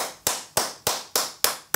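Deputies applauding in the French National Assembly, heard as six sharp, evenly spaced clap bursts that each start loud and fade quickly, like rhythmic slow group clapping, with no talking.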